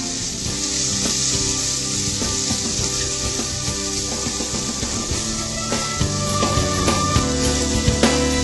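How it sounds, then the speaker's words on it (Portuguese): Chopped garlic and bacon fry together in a hot pan, a dense continuous sizzle with scattered small pops and crackles that grow slightly louder toward the end, no talking. "Agora a gente acrescenta aqui o alho, vai continuar fritando junto com o bacon."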